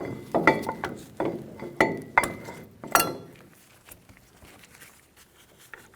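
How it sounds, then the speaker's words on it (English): Metal clinks and knocks as a brake caliper on a 2005–2015 Toyota Tacoma is lifted off its hook and fitted over the rotor, a cluster of sharp close taps and scrapes that thin out into quieter handling sounds. "Pull the caliper off of the hook, install it over the rotor."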